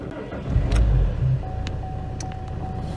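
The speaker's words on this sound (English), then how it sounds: "So you start the car." A Vauxhall/Opel car engine turns over and catches, then settles into a steady low idle, with a faint high whine running underneath.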